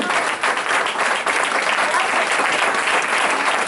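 A church congregation applauds to give glory to the Lord during an evangelical sermon, dense, loud, steady clapping filling the room without letup.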